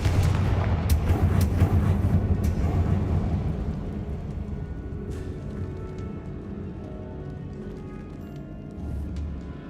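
Confringo blasting spell in a video game, a heavy booming explosion with crackling impacts up front that rumbles and fades away over several seconds, then a faint low rumble returns at the end.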